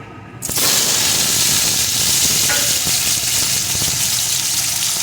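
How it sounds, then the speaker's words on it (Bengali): Cut potato pieces dropped into hot oil, with a sudden loud burst of sizzling that settles into a dense, steady frying hiss, close and full, with no voices. "এখন এই তেলের ভিতরে দিয়ে দেবো টুকরো করে কয়েকটা আলু"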